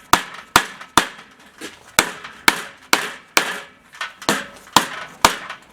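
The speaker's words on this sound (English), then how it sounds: "We got a nice dead blow hammer here, and nice and even take it in." A dead blow hammer taps a Willys Jeep rear axle part into place during a ring and pinion rebuild: about a dozen sharp, close knocks in an uneven, roughly steady rhythm, with no talking.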